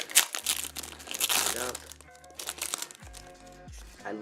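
Crinkly plastic wrap rustling and crackling as a YJ MGC puzzle cube is handled during unboxing, close and continuous, with a person talking over it.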